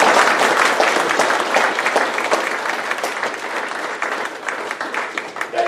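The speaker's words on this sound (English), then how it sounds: "Let's give them a round of applause." An audience at an astronomy talk applauding, sustained clapping that starts loud and slowly tapers off.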